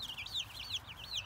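Hens cluck in a quick, repeated series of rising-and-falling calls, fairly close and alone, over a faint low background hum.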